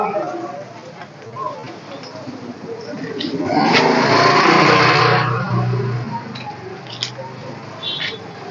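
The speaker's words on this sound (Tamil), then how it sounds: "2012 ஹோண்டா ஏவியேட்டர். இன்ஜின் சூப்பர் கண்டிஷனில் இருக்குதுங்க" A 2012 Honda Aviator scooter with its engine in good condition revs at a used-bike market in Coimbatore. The engine swells into a loud rev midway, then eases back, with someone talking throughout.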